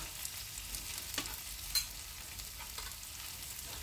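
Pumpkin stems and prawns fry in a pan with a soft, steady sizzle, broken by a couple of brief stirring scrapes about midway; no one speaks.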